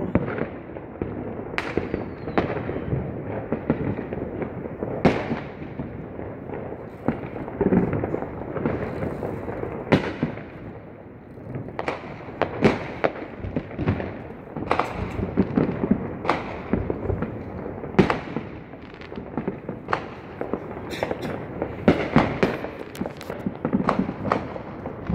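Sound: New Year fireworks exploding in New Orleans

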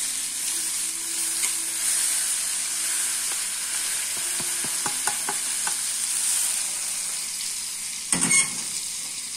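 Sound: sausage and bacon frying in a pan

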